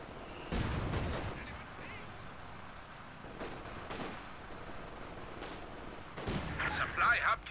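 Mortar and artillery blasts in the Company of Heroes 2 Port of Hamburg map, several sharp booming impacts spaced apart at moderate volume, with battlefield noise between them.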